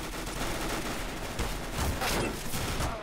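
Rapid gunfire in Counter-Strike: Global Offensive comes as dense, overlapping bursts of shots crackling loudly and continuously, with no pause across the stretch.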